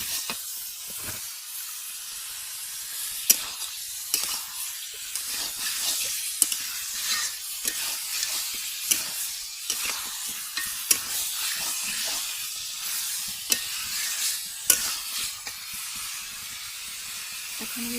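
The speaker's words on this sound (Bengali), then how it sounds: "এই যে একদম ভাজা ভাজা করে কষায় নিছি।" Desi chicken sizzling in a pot over a clay village stove, a continuous hissing fry broken by repeated scraping stirs and clicks of a spoon, close and steady.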